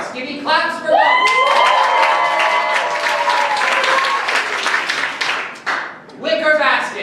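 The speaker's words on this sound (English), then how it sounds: "Give me claps for both." Audience clapping in response to a call for claps during a crafts vote between origami stars and a wicker basket, a steady full round of applause with cheering, fading near the end and then swelling again.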